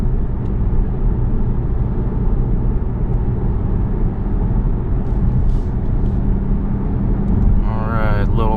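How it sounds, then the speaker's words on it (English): Car fitted with an Integrated Engineering Stage 1 tune cruising on a test drive, a steady loud engine and road drone heard from inside the cabin throughout. "Going on a little test drive."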